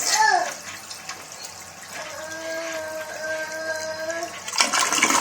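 An American Standard toilet with clogged siphon jets flushes: a splash and gurgle, then a steady rushing refill with a whistling tone for several seconds before another splashy surge, heard up close in a bathroom.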